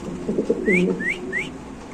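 A pigeon coos close by in a low, burbling murmur, joined by a few short, rising whistle-like notes.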